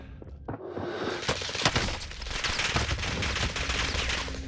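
Video game gunfire rattles in a dense, continuous barrage of shots and bursts, with sharp louder cracks standing out above a busy background of game noise.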